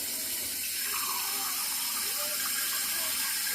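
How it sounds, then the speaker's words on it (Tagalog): Water pours steadily into a pot of kimchi stew, a close, continuous splashing stream with no break. "Ngayon dagdagan natin ng 2 cups of water ulit."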